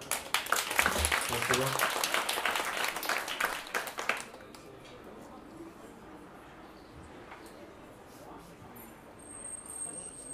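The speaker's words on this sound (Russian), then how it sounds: "Ваши бурные аплодисменты." Audience applause at a harp and jazz concert rings out briefly and fairly close, then cuts off abruptly into quiet room noise, with a short spoken word following.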